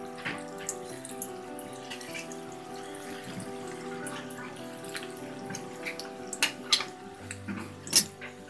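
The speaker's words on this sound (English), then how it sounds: "heat oil in a kadai and fry the balls till golden brown from all the sides" Veg Manchurian balls deep frying in hot oil in a kadai, a steady, fine crackling and sizzling with scattered pops and a louder spatter near the end, heard alone.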